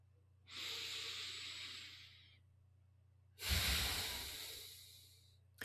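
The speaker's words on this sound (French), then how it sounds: "une autre bonne respiration" Two long, slow breaths for calming, a steady airy inhale rising and fading, a pause, then a stronger rushing exhale, close and alone with a low hum underneath.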